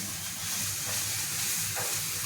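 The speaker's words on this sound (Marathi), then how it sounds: "आता हा मसाला खूप वेळ भाजायचा, तेल सुटेपर्यंत" Spiced masala roasting in oil in a pan for a modak curry, giving a steady close frying sizzle with faint stirring scrapes, no voices.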